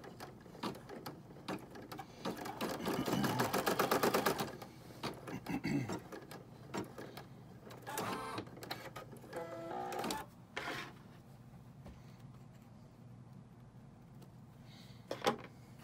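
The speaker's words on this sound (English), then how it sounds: "So we're going to sew out this part here." A home embroidery machine stitches a head spike detail in brown thread, its fast needle rhythm whirring and clattering loudly for several seconds, then continuing in shorter bursts with pauses while a person speaks softly between runs.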